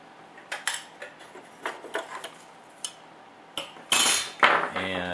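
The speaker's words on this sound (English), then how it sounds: "So we'll pull off this skid plate." Sharp plastic and metal clicks and clatters sound up close as the skid plate is pulled off a 1/12 scale HG Models RC HEMTT truck, irregular knocks building to a louder scraping rattle near the end.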